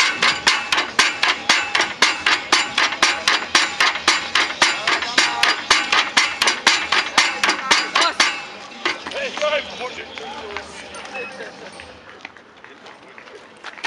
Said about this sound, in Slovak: A Lukáš berie do ruky kladivo a dáva za seba potrebnú silu na to, aby zdolal túto disciplínu.